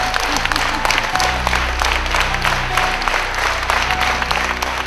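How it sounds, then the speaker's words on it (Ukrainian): Standing ovation for poet Lina Kostenko at her jubilee evening: loud, dense applause from a large standing audience, steady throughout, with a low hum and rumble underneath. "Її вітають аплодисментами стоячи."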